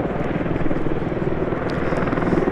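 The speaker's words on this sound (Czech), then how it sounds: "Vrtulník MI-171 EŠ NATO kódu HIP neboli HROCH je exportní verze ruského vrtulníku MI-171" An Mi-171Š military helicopter, the export version of the Russian Mi-171, gives off a steady, loud, dense rotor and engine roar that stays unbroken throughout.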